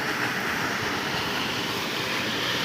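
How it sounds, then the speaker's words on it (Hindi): A waterfall roars in a steady, dense broadband wash on a mountain road between Kaza and Manali, constant and loud throughout with no talking. "देखो नीचे झरना आ रहा है"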